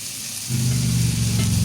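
Kangkong stir-fried with oyster sauce, tossed with fried tofu, gives a loud, steady sizzle that swells after a brief quieter start and holds strong and close to the end.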